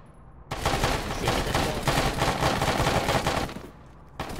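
Sustained burst of gunfire in the military simulation game Arma 3 during a ShackTac squad operation, starting abruptly and rattling densely for about three seconds before cutting off, loud and close.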